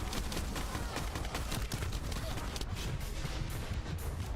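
Continuous roaring minigun fire from Void Erosion enemies in The First Descendant, a dense, unbroken barrage that stays loud throughout with no gaps.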